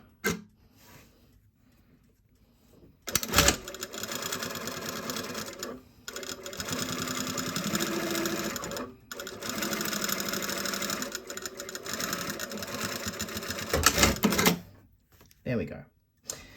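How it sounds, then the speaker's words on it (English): A sewing machine stitches down the edge of a bias seam in a long steady whirring run of rapid needle clatter, with brief pauses and short starts at either end. "I'm just going to pin stitch this edge down"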